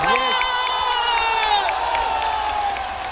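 A crowd at a football match cheers and shouts loudly throughout, a dense wash of voices with whistles, and a few claps mixed in.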